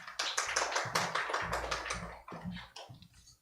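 A small audience at a children's and youth session on eating disorder awareness claps to welcome a speaker, with a few close, uneven bursts of clapping that come in separate clusters.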